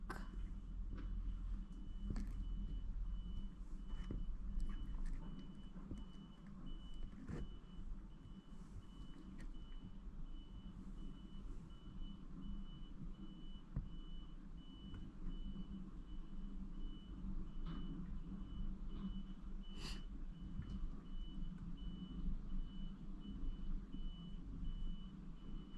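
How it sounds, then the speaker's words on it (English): A movers' big truck backs up with steady, repeating reversing beeps over a constant low diesel engine rumble, heard from a short distance for a long stretch with no talking. "And the movers are here. It's a big truck."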